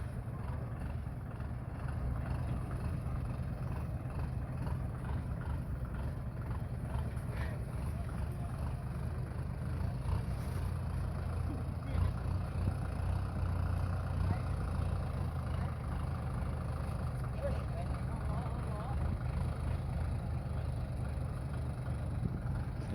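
A Sumitomo SH210 excavator drags a large tree stump, its diesel engine giving a low, steady rumble at moderate distance with faint scraping and background noise throughout.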